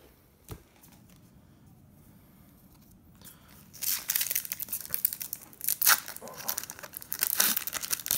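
Pokémon Forbidden Light booster pack wrappers are torn open and crinkled up close: a soft snap early on, then a stretch of busy, rustling foil tearing and crumpling.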